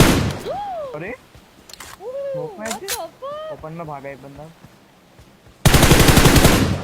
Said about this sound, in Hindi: यहाँ पे बंदों ने फायर करना चालू कर दिया